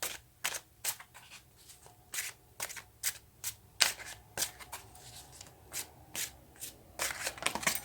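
Tarot cards are shuffled and drawn by hand, giving a quiet, close run of brisk riffling flutters and soft slaps in an irregular rhythm, with no voices.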